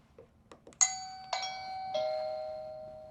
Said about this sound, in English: when somebody rings your doorbell, you're going to hear it on your chime